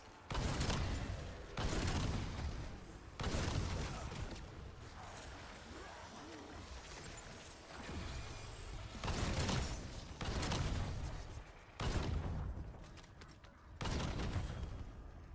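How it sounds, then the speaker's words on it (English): Repeated bursts of ARC M1 assault frame fire at zombies in a shooter game, loud volleys separated by short lulls, with a player talking between and over the shots. "I'm just having to constantly shoot to kill the zombies"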